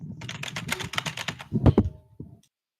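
Loud computer keyboard typing, a rapid run of crisp clacking keystrokes close to the microphone, followed by a few heavier thumps before it stops.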